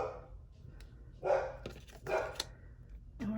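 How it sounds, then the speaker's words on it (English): A dog barks at someone at the door in a home, a few separate bark bursts in a row, moderately loud indoors with no talking. "there's someone at my door, so my dog is barking"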